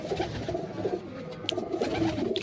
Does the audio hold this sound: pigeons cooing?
yes